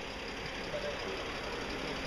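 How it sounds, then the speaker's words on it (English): An off-road vehicle's engine idles on a rocky trail with a low, steady rumble and faint irregular clanking, fairly quiet and continuous with no talking. "His engine's clanking."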